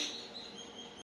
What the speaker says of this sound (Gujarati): અને આજે ચકલીઓ અવાજ બહુ કરસ ગાઈસ, તો તમને સંભળાતું હશે.